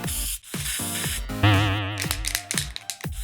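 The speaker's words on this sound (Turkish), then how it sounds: "Saç spreyi canavarı." Hair spray hisses from an aerosol can in short bursts and one longer spray, close and loud, between small clicks and handling sounds.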